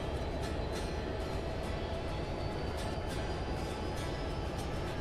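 A train in the Railworks simulator, EMD Geep diesel locomotives on Marias Pass, rumbles along steadily with a constant low drone and faint periodic clicks, with no voices over it.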